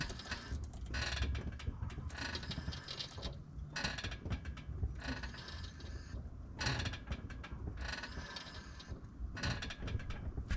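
Repeated pumping of the brake pedal while bleeding the brakes on a Nissan 300ZX, heard as rhythmic bursts of mechanical creaking and clicking that recur every second or so, faint and close.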